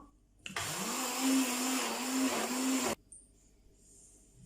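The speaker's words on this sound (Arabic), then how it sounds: "طحنوها مزيان بالميكسور" An electric blender grinds a basbousa batter in one loud, steady whir of about two and a half seconds that starts and stops abruptly, set between quiet moments.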